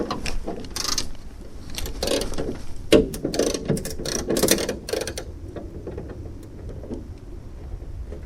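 Ratchet clicking in repeated bursts as bolts are loosened on the bonnet of a VW Scirocco R, close and fairly loud, with short pauses between runs of clicks and a quieter tail.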